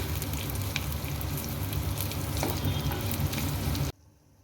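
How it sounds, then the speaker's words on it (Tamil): Finely chopped shallots fry in a pan for a Tamil kara kuzhambu, giving a steady, dense, close sizzle with small crackles throughout before the sound cuts off abruptly near the end. "பொடியாக கட் பண்ணி வச்சுருக்கிற சின்ன வெங்காயம் இதை இப்போ நல்லா ஃப்ரை பண்ணிக்கலாம்"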